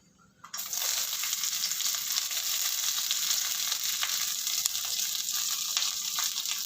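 Onions drop into hot oil for Kumbakonam kadappa and begin frying, a sudden loud sizzle that settles into a steady close-up hiss with small crackles throughout.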